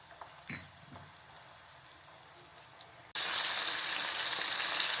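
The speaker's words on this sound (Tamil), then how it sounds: "தக்காளி குட்டி குட்டியாக கட் பண்ணியிருந்தேன் அதையும் சேர்த்தாச்சு இது எல்லாம் சேர்ந்து நல்லா வதங்கட்டும்" Chopped tomatoes sautéing in a pan for chicken gravy, a faint soft sizzle that jumps to a loud, steady frying hiss partway through.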